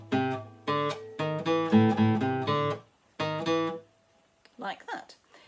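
Acoustic guitar playing the opening two bars of a piece from the Trinity acoustic guitar syllabus, a run of bright plucked notes in short rhythmic groups, close and clear, followed by a brief spoken voice at the end.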